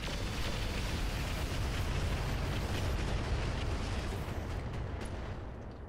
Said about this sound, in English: rocket launcher time, firing everything.